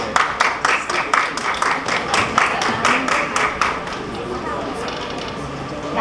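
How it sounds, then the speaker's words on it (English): A hospitality awards audience gives rhythmic, loosely synchronized clapping for Chef Rakhee Vasvani as she is invited on stage, the claps strong at first and then fading into a murmur of crowd noise and background voices. "Can we have a huge round of applause for Chef Rakhi as we invite her on the stage?"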